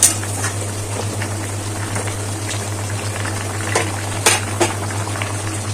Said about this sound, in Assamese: আমাৰ ৰেডি হৈ গ'ল বইল চিকেন লাই পাতৰ লগত